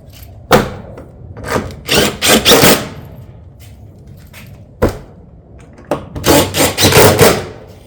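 A power drill drives fasteners through a ridge vent on a Pacific tile roof install, heard as several short, loud, irregular bursts of whirring with quiet gaps between them.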